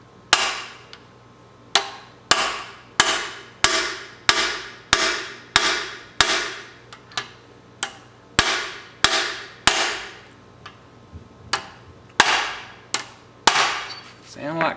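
A long run of sharp metallic hammer strikes driving a bearing into place, about one per second, each ringing briefly; loud and close, with a few quicker double blows near the end.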